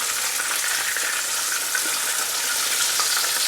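Cajun-spiced chicken pieces frying in very hot oil for a chicken sandwich, a dense, continuous close-up sizzle with a fine bubbling hiss that holds steady throughout.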